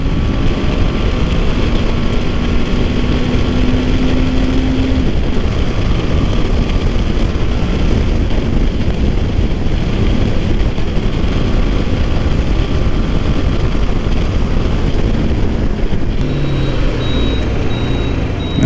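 BMW G310 GS motorcycle ridden in fifth gear at speed, a loud continuous engine drone mixed with heavy wind rush, with a pitch shift near the end.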